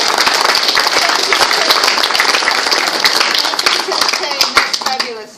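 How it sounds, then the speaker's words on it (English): An audience at a mining for development alumni event claps in sustained, dense applause close to the microphone, the clapping thinning into a few scattered louder claps before fading out. "can we please give a big round of applause"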